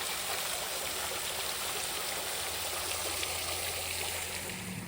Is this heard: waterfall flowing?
yes